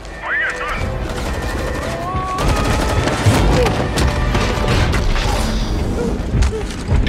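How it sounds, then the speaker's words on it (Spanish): Fortnite gunfire during the Chapter 2 Season 8 finale event: rapid bursts and booming shots crackle steadily for several seconds amid dense, loud game action. "Disparos intentan detenerme."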